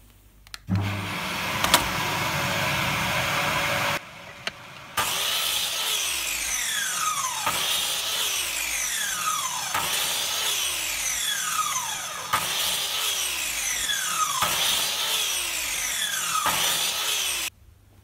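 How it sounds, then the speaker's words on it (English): A mitre saw cutting wooden blocks to length: a loud motor whine runs throughout, with about six repeated cuts as the blade bites into the wood and winds down, close with no talking. "I'm just going to cut all these pieces to length"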